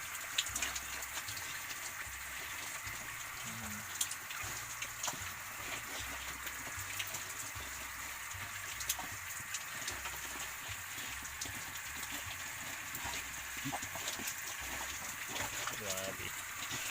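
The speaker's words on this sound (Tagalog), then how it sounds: "Motor na humihigop sa ilog dahil mahirap po dito ang patubig" A motor pump draws water from a river for irrigation, giving a steady low pulsing churn under a continuous wash of rushing, splashing water that holds level throughout.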